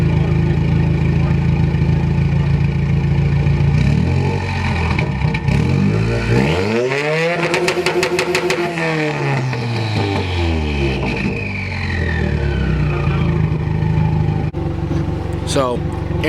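A 2015 Subaru WRX with a full 3-inch turbo-back exhaust idles with a deep rumble, then revs up hard in a rising, sweeping pull and falls back to idle, loud and close, with a voice talking over it.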